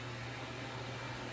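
A dog hair dryer blows on an Afghan Hound puppy, a steady, even whoosh of airflow with a low hum underneath, constant and fairly quiet throughout, with no voices.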